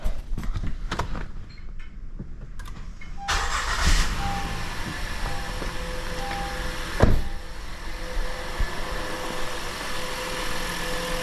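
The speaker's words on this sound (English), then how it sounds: "let's turn the truck on" A 2018 Honda Ridgeline pickup truck engine cranks and catches after a few seconds of quiet clicks, then settles into a steady idle with a brief louder rev partway through.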